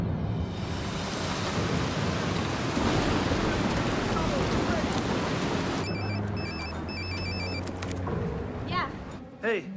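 A roaring storm of gale-force gusting wind and heavy rain, loud and continuous, with scattered electronic beeps and muffled thuds in the last few seconds.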